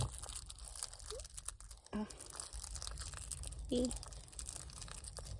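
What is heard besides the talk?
animal chewing on something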